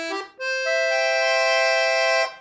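Oboe reed register on the treble side of a black Excelsior Accordiana Slimline LM 120 accordion, a single sustained reedy note held for about two seconds after a brief lead-in, close and steady with no talking.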